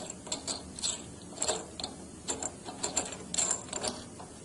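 Someone turns the adjusting screw on a Jordan Mark 60 series valve during a repair kit installation. Faint, close ratcheting clicks come in irregular bursts with light metallic ticks, and no voices are heard.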